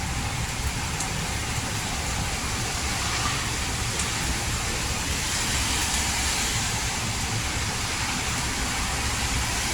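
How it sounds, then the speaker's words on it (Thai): Heavy rain falling with gusting wind in Bangkok, a dense, constant loud hiss and roar filling the whole stretch without pause, no voices. "ฝนตกเย็นฉ่ำจ้า"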